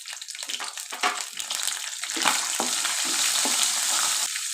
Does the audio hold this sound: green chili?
yes